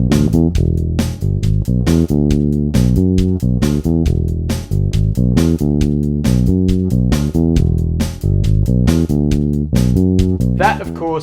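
Bass guitar plays a riff, a repeating melodic line with a driving drum track, loud and steady throughout with no talking.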